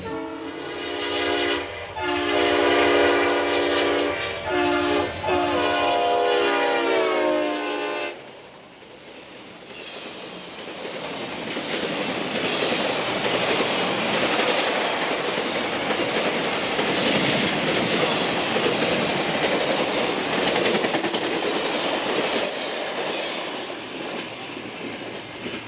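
A Denver & Rio Grande Western Winter Park ski train passes with a loud, steady horn sounding first, then a long rolling rumble and clatter of railcars going by up close.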